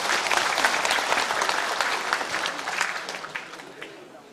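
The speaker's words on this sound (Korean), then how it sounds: "격려의 박수 한번 부탁드리겠습니다." Audience applause at a National Assembly debate forum, a lively burst of many hands clapping that gradually thins and fades over a few seconds.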